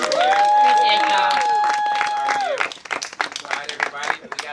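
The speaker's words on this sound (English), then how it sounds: "Give a round of applause, y'all" Clapping and cheering from a crowd at a writing-session open-mic event, starting under a sustained sung or called-out voice and then breaking into a looser, choppy burst of claps and shouts.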